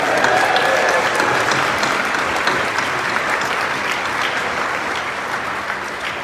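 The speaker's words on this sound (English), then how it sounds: "Let's give a round of applause for this amazing moment" Audience applause at a charity gala evening, a dense crowd clapping steadily and loudly throughout, fading only slightly toward the end.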